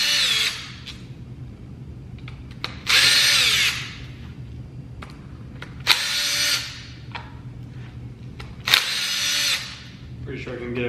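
Power drill spinning out 10 millimeter bolts while swapping a camshaft in a 4.8 engine, three loud whirring bursts of a second or so each, separated by quieter workshop background.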